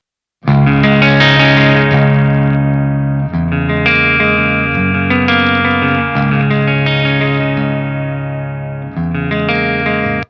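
Distorted, gainy electric guitar played through a Volcano Soldano amp simulator, sustained chords and ringing notes with chorus-like shimmer and reverb, loud and continuous for about ten seconds with no talking.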